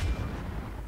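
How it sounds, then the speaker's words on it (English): A single heavy boom of artillery-style gunfire aimed at a sniper in a tactical war video game, a loud low blast at the start that decays into a rumbling tail. "Fire at the sniper."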